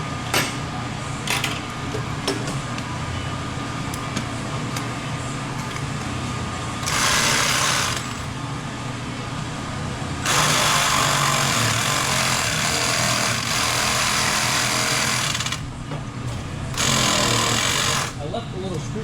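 A power tool cuts a notch underneath a motorcycle swingarm in bursts of loud, harsh grinding whine that start and stop, with rattling handling noise between cuts and a voice talking in the background.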